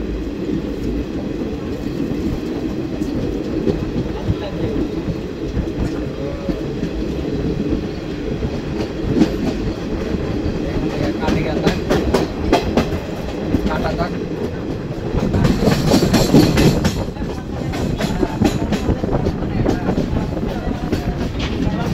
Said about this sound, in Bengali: ট্রেন এবার আস্তে আস্তে প্রবেশ করছে